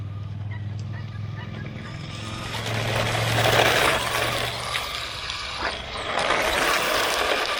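A cheap 1/16-scale Hospeed HS16351 RC car driven at full throttle and drifting, giving a close, steady whine of its small motor and a gritty rush of tires that builds louder in the middle and stays busy to the end.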